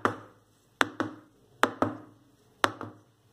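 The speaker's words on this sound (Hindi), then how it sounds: "बैटर डालने के बाद अब आप इसे चार से पांच बार इस तरह से टैप करें ताकि इसके अंदर जितने भी एयर बबल्स हैं वो बाहर आ जाए।" A cake tin filled with eggless sponge cake batter is tapped on a surface to release air bubbles, giving sharp knocks in pairs, three pairs in all with short ringing decays, close and clear with no talking.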